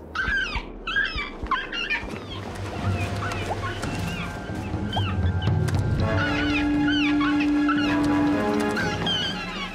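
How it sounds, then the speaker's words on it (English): Shrill, squawking seagull calls ring out repeatedly over a busy, layered outdoor ambience, growing denser and louder in the second half. "The main kind of feature of the sound design was definitely those seagull sounds."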